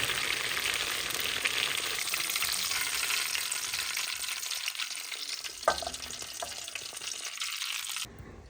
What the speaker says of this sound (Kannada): ಅದು ಎಣ್ಣೆ ಚಿಟಾರ್ ಪಟಾರ್ ಅಂತ ಸಿಡಿಯುತ್ತೆ